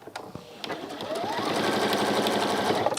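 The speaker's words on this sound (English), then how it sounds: "Now as I'm sewing up here" A sewing machine stitches a fabric textile caddy, its close, rapid mechanical whirr building after a few starting taps and then running steadily and loudly.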